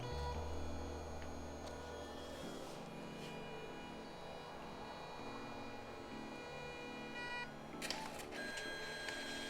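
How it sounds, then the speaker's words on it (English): A Canon Selphy CP1500 dye-sublimation photo printer runs a print with its ribbon, giving a steady mechanical hum and whir with a few soft ticks and shifts in motor pitch partway through, close up and with no talk. "This is a sublimation printer with ribbon, and so it goes in 4 passes"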